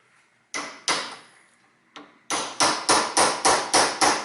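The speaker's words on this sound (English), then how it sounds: "There is metallic spike what I can use, and then this hammering, a little bit hammering in there." Metal spike being hammered into a BMW rear trunk door hinge (3-, 5-series Touring or X1) during repair: two strikes, a pause with a faint tap, then a run of seven steady, sharp, ringing blows close by.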